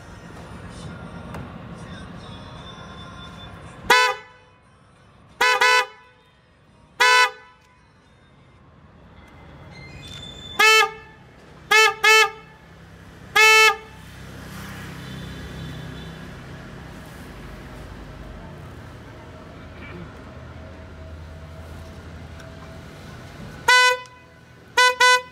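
Snail-type electric car horns sound in a series of loud, sharp blasts of varying length, some in quick pairs, with quiet stretches of low background hum and faint voices between them.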